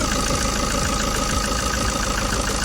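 Ford Mondeo engine idling steadily after a fuel filter change, a close, even, continuous mechanical rumble with no talk.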